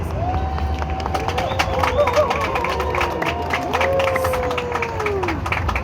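An audience at a law faculty graduation ceremony in Gonaïves applauds and cheers in a dense, continuous wash of clapping and crowd noise, with voices and tonal sounds running through it.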